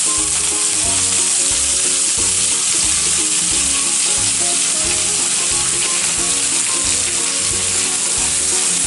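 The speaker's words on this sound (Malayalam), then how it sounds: "നമുക്കിനി അരിഞ്ഞു വെച്ച സവാള ഇട്ട് കൊടുക്കാം." Chopped onions hit hot oil with spices for an okra masala curry, a loud, steady sizzle and crackle filling the whole stretch with faint stirring scrapes and no voices.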